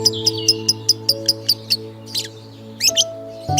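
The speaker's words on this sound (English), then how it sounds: "Lovebirds show affection through gentle chirps and preening" Lovebirds give a quick series of evenly spaced high chirps, then a few scratchier calls, over a steady low background hum.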